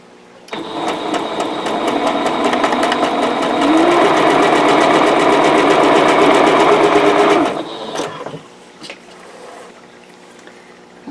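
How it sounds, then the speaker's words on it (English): A sewing machine chain-stitches quilt block pieces in one continuous run of rapid, steady needle clatter, loud and close, for about seven seconds, then stops and leaves a quiet room with faint handling noises. "And then I will sew the other 2 together, just leaving them chained together here."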